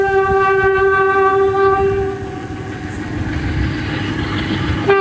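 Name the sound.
freight train passing near Tupi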